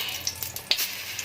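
A paratha frying in oil on a hot griddle, a brief close hiss with a few soft crackles and spatula touches, no voices.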